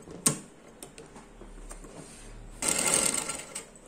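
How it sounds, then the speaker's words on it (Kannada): Sewing machine stitching a baby frock, with a sharp click near the start and a louder burst of machine running in the final second or so, over quieter mechanical ticking. "ಸ್ಟಿಚ್ ಹಾಕ್ಕೊಂಡ್ರೆ ಅಲ್ಲಿಗೆ ನನಗೆ ಒಂದು ಸರ್ಕಲ್ ಸಿಕ್ಬಿಡುತ್ತೆ ಸರಿನಾ ಹಾಕ್ಕೊಳ್ತೇನೆ ನೋಡಿ"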